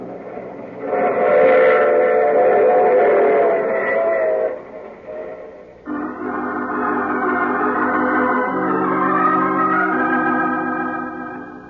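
A train rumbles steadily close by while its whistle blows in long sustained chords, pausing briefly before sounding again with shifting tones, in an old radio drama.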